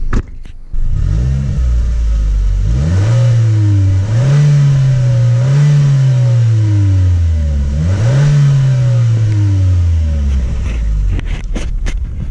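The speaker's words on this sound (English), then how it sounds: "Check out that exhaust clip." A 2015 Chevrolet Cruze engine revs up through its exhaust in several rising and falling pulls, loud and close, settling back to idle between bursts with no talking.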